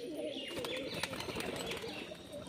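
Pigeons, a sale lot that includes a yellow-eyed hen, give soft, low cooing and a few faint chirps at a quiet, steady level, with a little rustling and wing movement nearby.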